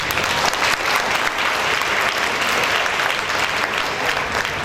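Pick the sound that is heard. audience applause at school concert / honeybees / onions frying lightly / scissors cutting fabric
audience applause at school concert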